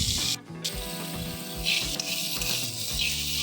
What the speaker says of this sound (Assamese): ইয়াৰ জাতিলাও বাকলিখিনি অলপ টাইম ভাজি লওঁ।